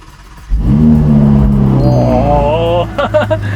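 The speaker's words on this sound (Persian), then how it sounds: "یه استارت بزنم. جان من یه دونه استارت." A car engine in a car showroom cranks and catches, then roars up in a loud, rising rev before holding at a steady drone, with faint voices in the background.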